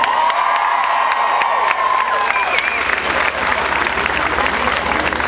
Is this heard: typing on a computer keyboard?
no